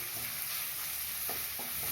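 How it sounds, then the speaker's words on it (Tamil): Onions softening in a hot pan for a vegetable noodle dish give off a steady, close frying sizzle with a few faint stirring clicks, and no voices come through. "வெங்காயம் ஒரு 2 நிமிஷம் வதங்கட்டும்"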